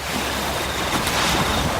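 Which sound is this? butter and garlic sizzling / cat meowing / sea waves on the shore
sea waves on the shore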